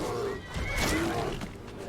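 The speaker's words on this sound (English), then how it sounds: "Oh, there goes the horse after the bear." A horse in Skyrim gives a short neigh amid the clamour of a fight with a bear, set against a steady wash of game ambience.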